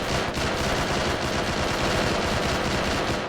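Sustained rapid machine-gun fire rings out in a military shooter game, a dense unbroken rattle of automatic bursts that stays loud and close for the whole stretch.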